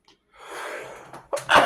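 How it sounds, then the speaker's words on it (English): A single sneeze: a drawn-in breath builds for about a second, then a sharp, loud burst expels close to the microphone. "What is the spiritual meaning of a sneeze?"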